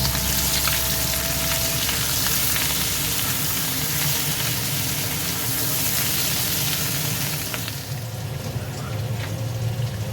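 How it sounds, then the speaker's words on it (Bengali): Potatoes frying in hot oil for aloo dum, a continuous close sizzle with crackles and occasional stirring, steady for most of ten seconds before thinning slightly near the end. "আলুর দমটা আলুগুলো ভালো করে ভেজে নিলাম এবার লবণ দিচ্ছি হলুদ দিচ্ছি"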